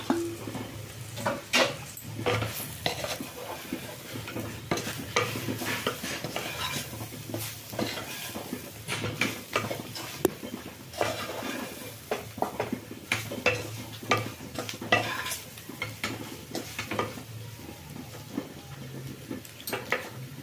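Egg pepper fry being stirred and fried in a pan: repeated scraping and clinking of a spatula against metal over a soft background sizzle, close and steady throughout, without speech.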